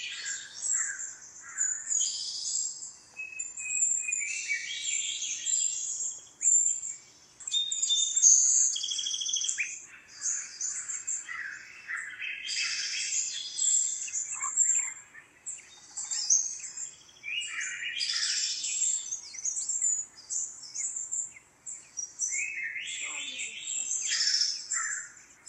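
An iPhone bird song alarm tone plays clear chirping and tweeting calls in repeated bursts across the whole stretch, bright and fairly soft.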